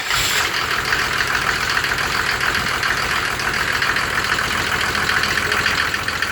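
A Mercedes OM603 diesel engine driving a motor pump runs steadily nearby, a continuous loud, rough idle with a knocking mechanical clatter and no breaks.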